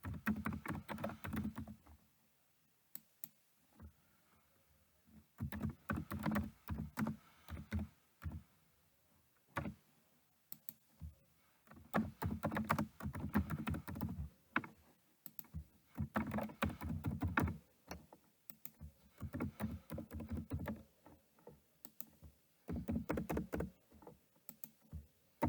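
Typing on a computer keyboard at close range, with bursts of rapid key clicks separated by short quiet pauses, steady and fairly loud.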